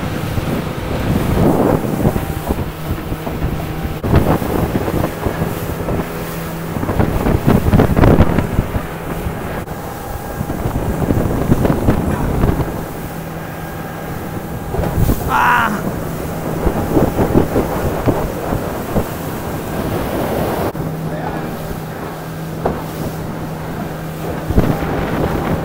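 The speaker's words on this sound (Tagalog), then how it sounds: "Lakas ang hangin." Strong wind roars and gusts against the microphone on an island-hopping boat off Boracay, over a droning boat engine and splashing water, with loud buffeting bursts throughout.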